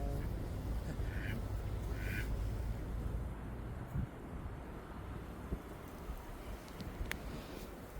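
Ducks quacking on a salt marsh pond along a Brooklyn nature trail, a few brief calls mixed into steady wind rumble and outdoor ambience.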